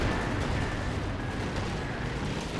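Artillery fire in the video game Company of Heroes 2, a dense, low rumbling barrage of distant booms rolling continuously for a few seconds, fairly faint.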